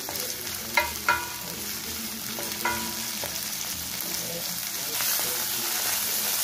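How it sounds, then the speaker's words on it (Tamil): Onion and green chili tempering in hot oil for a vegetable semiya biriyani, with tomato going in: a steady sizzle with a few sharp spatula scrapes near the start, then a broader, louder hiss toward the end. "வெங்காயம் பச்சை மிளகாய் தாளிச்சு விட்டுக்கலாம்"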